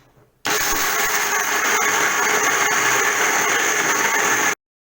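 A blender grinding dry raw almonds roars at full power for about four seconds, a loud, dense grinding whir that starts and cuts off abruptly.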